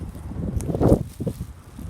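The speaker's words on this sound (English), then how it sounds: "Got a lot of wind today." Gusty wind buffets the microphone with low rumbling surges, swelling loudest near the middle before easing off.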